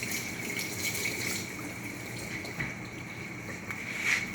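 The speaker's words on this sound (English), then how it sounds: "I just need to wash my hands here." Tap water runs steadily into a sink during handwashing in a home kitchen, a continuous close splashing stream with no talk.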